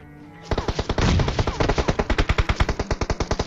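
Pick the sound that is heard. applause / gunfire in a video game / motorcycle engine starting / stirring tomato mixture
gunfire in a video game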